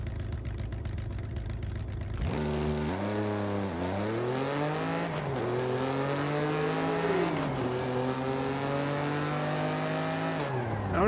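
V6 engine of a car in Forza Horizon 5 starting up after a moment of quiet, then idling and revving in repeated rising and falling sweeps, loud and close with no talk over it.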